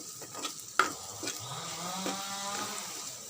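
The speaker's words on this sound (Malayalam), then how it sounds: "ഇച്ചിരി മുളക് പൊടി ഇടാം. ഒന്നും കൂടെ വഴറ്റി കൊടുക്കുക." Beef roast with green chillies and chilli powder being sautéed in a pan: a sharp utensil knock, then a steady soft sizzle with scraping stirs, close and fairly quiet, no talk.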